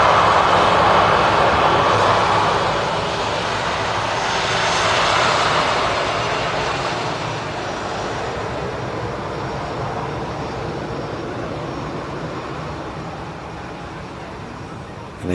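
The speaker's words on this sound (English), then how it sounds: "let's swivel around and catch the arrival of Jet2's LSAA 757" A Jet2 Boeing 757 airliner arriving at Manchester Airport, a loud, sustained jet engine roar that swells and then slowly fades as it passes, with no voices.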